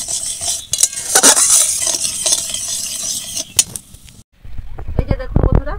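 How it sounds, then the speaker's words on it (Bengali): A spoon scrapes and clinks against a pot while sugar and water are stirred into syrup, irregular metallic taps and scrapes that break off briefly before resuming under a soft bubbling sizzle. "কখনো এরকম নাড়তে থাকবো, দিয়ে চিনি থেকে একটা সিরা তৈরি করে নেব।"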